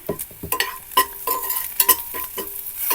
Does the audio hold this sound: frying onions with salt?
yes